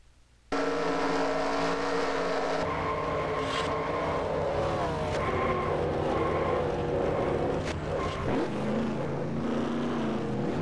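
On-board roof-cam sound of a Sunoco K&N Pro West Series stock car engine, a loud steady drone that rises and falls in pitch through the gears, close and alone.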